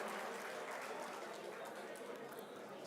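Faint, steady applause from an audience at the Sharjah Indian School Alumni Association inauguration, a soft patter of clapping that holds evenly for a few seconds with no voices over it.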